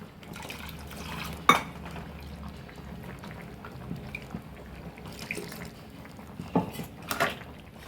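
Water trickles and splashes softly into a pot of Chettinad mutton kola urundai gravy with coconut, with a few sharp clinks of a utensil against metal along the way.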